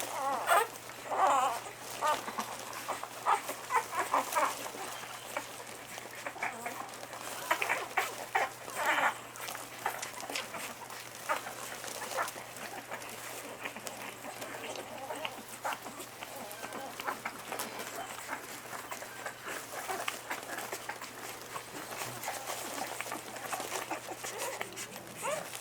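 Twelve-day-old Alapaha Bulldog x American Bulldog puppies whimper and squeal, faint scattered high cries in a continuous restless chorus over a low steady hum.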